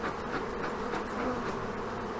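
Honey bees swarming at an old hive make a dense, continuous buzzing drone, close and steady throughout, with no talking.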